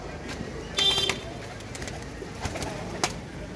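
A pair of Salati pigeons at a pigeon sale coo softly up close, with brief rustling and fluttering bursts from handling and wings against quiet background noise.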